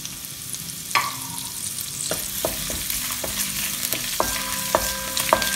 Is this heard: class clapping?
no